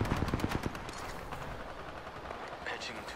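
Rapid video-game gunfire in a quick burst of close shots at the start, fading into a steady din of battle noise, with a voice talking over it.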